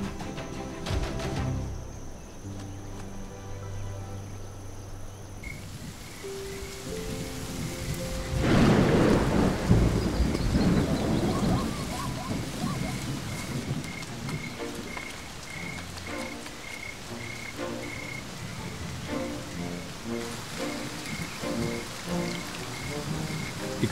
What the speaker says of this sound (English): Love is in the air as the rain pours down in the rainy season.